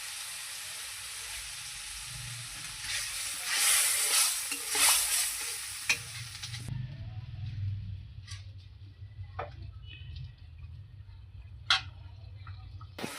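Potatoes with turmeric sizzle in a frying pan, a steady close crackle that brightens as the food is stirred, then settles into a softer, quieter frying hiss with occasional drips and clinks.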